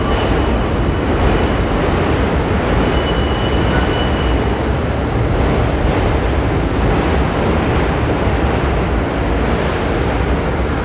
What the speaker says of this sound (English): That's the Q train.